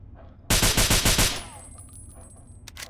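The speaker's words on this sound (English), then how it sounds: "Is that a sniper rifle?" A rapid burst of about six loud gunshots from a weapon in Fallout 3, fired in quick even succession and then ending, with faint game ambience afterwards.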